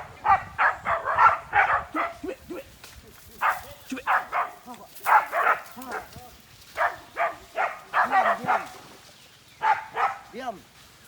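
Two dogs bark repeatedly during a hunt for a large 100 kg pig. Short, hoarse barks come in irregular bursts, some close together, with brief gaps between volleys.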